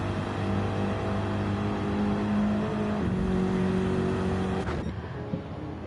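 Race car engines droning steadily in a racing video game during a six-hour team endurance race, a continuous loud tonal hum with pitch shifts as a car passes, no voices.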